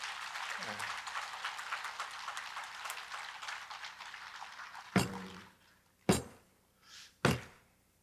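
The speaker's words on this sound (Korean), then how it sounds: "이 수고하신 분에게 모두 박수를 한번 쳐주십시오." Applause from an audience at a Buddhist dharma lecture, a steady wash of clapping that fades out, followed by a few loud thumps, likely from a microphone being handled.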